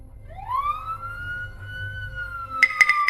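A police car siren wails, sweeping upward and then holding a steady, loud tone for several seconds, with a few sharp clicks and knocks near the end.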